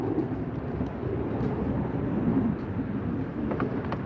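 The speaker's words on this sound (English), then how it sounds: "We see Virgin Atlantic starting to make the turn now onto the runway." A Virgin Atlantic airliner turns onto the runway at Los Angeles Airport, a steady distant jet engine roar mixed with wind rumble, no talking.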